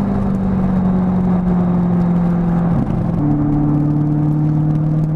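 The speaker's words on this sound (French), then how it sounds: "Profiter un peu du bruit de la voiture." Chevrolet Corvette C6 Z06 engine running, a steady close rumbling drone with a slight pitch shift partway through, continuous and without voices.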